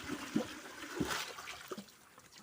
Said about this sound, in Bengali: আর জল দিচ্ছে এই টবে করে ওনারা জল দিচ্ছে দেখো